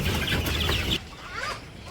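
Chickens cluck in short bursts close by, with a dense rustling background that drops away halfway through, leaving softer clucks.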